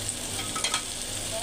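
Onions sizzle with green chilies in a hot pan, a close, continuous crackling fry that stays loud and even throughout.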